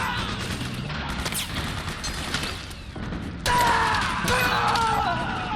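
Gunfire and mechanical weapon clatter in the video game Metal Gear Solid 4, bursts of shots and ratcheting metallic clicks over busy game sound, with a loud burst in the latter half.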